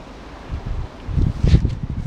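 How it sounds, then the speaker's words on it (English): Gusts of wind on a seaside promenade buffet the microphone in low rumbling bursts, growing stronger toward the end, with no talking. "It's a bit windy on the prom today."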